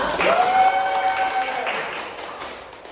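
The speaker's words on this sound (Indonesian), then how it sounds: "tepuk tangan untuk Vina." Students in a classroom economics lesson clap together, loudest at the start and gradually thinning out, with a brief sustained tone sounding over the first part.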